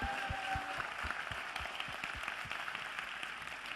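A congregation at an evangelistic church service claps for the Lord, a quick run of sharp handclaps, fairly close and slightly irregular in rhythm, sounding alone without talk.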